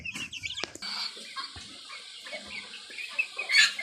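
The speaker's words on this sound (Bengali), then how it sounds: "এখানে হচ্ছে আমার বাফ কালারের মোরগ এবং মুরগি" Buff-coloured roosters and hens cluck and a rooster calls amid farmyard noise, with scattered bird sounds at moderate volume and no talking.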